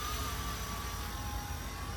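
A Coast Guard RC helicopter flies at full speed forward, making a steady whirring, whining drone with a high tonal hum over broad noise, continuous and moderately faint throughout.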